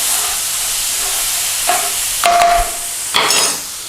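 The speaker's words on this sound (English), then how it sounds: "Give it a little stir around." Garlic and ginger stir-fried in a hot pan for a British Indian restaurant-style curry: a steady sizzle with three louder bursts of spatula scraping and stirring, close up, with no talk.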